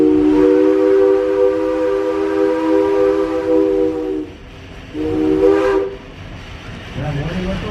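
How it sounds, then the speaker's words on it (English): A loud steam locomotive whistle blows in a long sustained blast, breaks off, then sounds a shorter second blast over the rumble of a moving train approaching a high bridge on the Georgetown Loop Railroad, Colorado. "That warning whistle given by our engineer means we're about to cross over the Ferroequinologist High Bridge."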